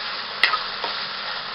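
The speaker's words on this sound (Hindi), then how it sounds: "अब हम इसमें मटर भी डाल देंगे ताकि मटर भी गल जाए और इन्हें अच्छे से मिक्स करेंगे" Peas stirred into vermicelli in a hot pan make a continuous close sizzle, broken by a sharp utensil tap and a softer second scrape.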